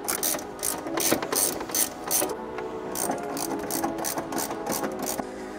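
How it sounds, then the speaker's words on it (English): A ratchet wrench clicks steadily as it backs out 12-millimeter bolts holding the lower airbox of a Toyota Tacoma, rapid pawl ticking in close repeated bursts with no talking. "we're gonna have three 12-millimeter bolts holding the bottom part of the airbox in"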